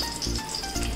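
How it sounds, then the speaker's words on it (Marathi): Garam masala spices sizzle in hot oil in a pan for a brief moment, with a close frying crackle and stirring over a faint tonal background. "गरम मसाले टाकते आपण घेतलेले, छान हलवून घेते."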